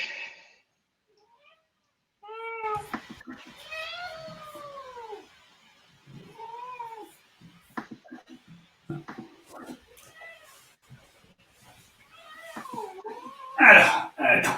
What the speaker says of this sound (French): il me dit miaou, miaou, miaou